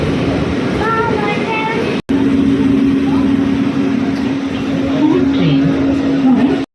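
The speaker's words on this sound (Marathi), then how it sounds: "मेट्रो स्टार्ट झाली आहे पण फिल सुद्धा होत नाही आपण चाललोय" A steady train rumble and electric whine hum inside a moving PCMC metro carriage, loud and continuous, with a brief cut and people talking over it.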